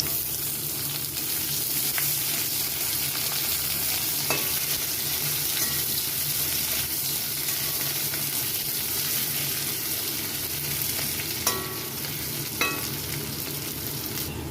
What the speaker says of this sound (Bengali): এখানে আলু পেঁয়াজটা ভাজা হয়ে গেছে।